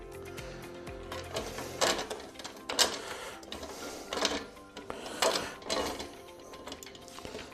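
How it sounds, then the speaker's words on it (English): A spanner works a locking nut on the bolts of a lightweight three-step folding ladder, giving a run of quiet metallic clicks and ratcheting turns in irregular bursts, close and fairly soft with no talk. "Spanner over the nut."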